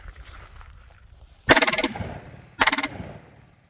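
Two rapid bursts of automatic-style fire from an Alamo 15 rifle with a slap-fire fix, each burst a fast string of sharp cracks, loud and close, separated by a short pause over quiet background.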